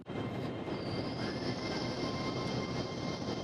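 LNER Azuma train departing York Station for Edinburgh, a loud steady rumble of rolling stock with a high wheel squeal running throughout, close by and without talk.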